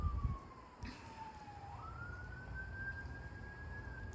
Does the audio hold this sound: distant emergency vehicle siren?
yes